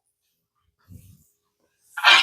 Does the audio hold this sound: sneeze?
yes